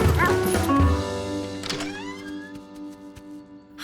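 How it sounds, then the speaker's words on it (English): Cartoon dog Charky barks in a short burst of a few yips near the start, loud and close, followed by a soft musical score carrying on alone. "When he heard her bark,"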